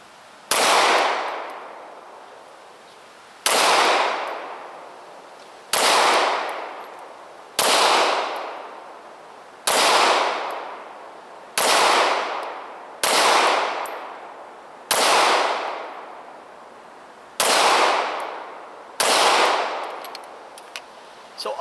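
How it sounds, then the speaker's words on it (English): Ten loud, close 9mm pistol shots from an M&P fired with 124 grain ammunition, each a sharp crack with a ringing tail, spaced about two seconds apart in an even rhythm. "We're going to shoot 10 rounds of 124 grain Anguilla ammunition"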